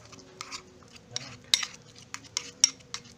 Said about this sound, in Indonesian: Terus kita aduk hingga benar-benar rata, benar-benar halus dan halus ya.